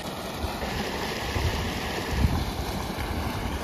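A tubewell pumps water into a farm field, producing a steady, even rushing wash that holds without a break and no voices.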